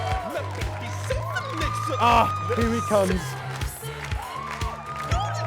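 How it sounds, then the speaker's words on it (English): A large crowd cheers and applauds continuously, with whoops and shouts rising and falling, under someone talking excitedly over the noise. "This crowd's going wild."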